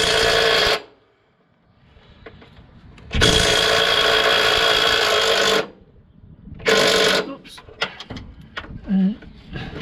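An impact wrench works on a 21mm bolt under a car's front suspension, a few loud rattling bursts of a second or more separated by pauses, with clinks of tools and some talk between.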